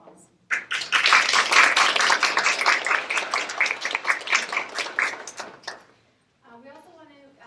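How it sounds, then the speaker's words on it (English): Applause from an audience at a 2015 introduction, thanking donors, sponsors and supporters: a burst of rapid clapping starts abruptly, stays busy for about five seconds, then stops, and a voice begins speaking near the end. "I ask you to give them a big round of applause."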